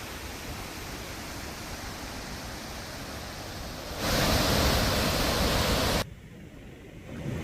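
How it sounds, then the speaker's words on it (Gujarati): Gira waterfall in Dang near Saputara, Gujarat, swollen after heavy monsoon rain, gives a steady broadband roar of falling water with no voices. The roar swells louder for a couple of seconds midway, then settles back. "તેમજ ગીરાધોધના દ્રશ્યો સામે આવ્યા છે"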